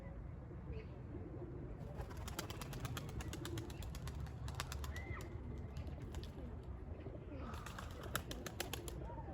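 Pigeons on the ground coo softly and steadily, with faint chirps and a brief flutter of wings. Quiet outdoor noise continues underneath, and no voices are heard.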